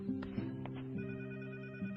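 An old telephone bell rings in short repeated bursts, a moderately quiet, steady electronic trill heard alone.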